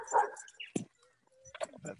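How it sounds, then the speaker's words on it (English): A dog yips and whimpers faintly in the background of an online group call, in short scattered bursts. "Sorry, I can hear somebody's dog."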